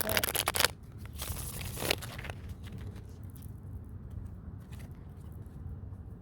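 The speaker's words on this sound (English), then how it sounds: "I'm just going to do one more quick shuffle of that." A deck of tarot cards is given a quick shuffle. A loud, papery riffle comes at the start, then a second, briefer flutter of cards. After that comes a quiet room tone.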